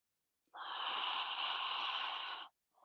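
A single long, steady exhale during a guided Pilates-style core exercise, airy and breathy with a snort-like hiss, close to the microphone and lasting about two seconds, then a brief second breath starting at the end.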